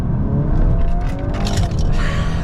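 A 2025 MK8.5 VW Golf R Black Edition accelerates through a tunnel, with a close, booming engine roar, rising pitch and crackling bursts echoing off the walls.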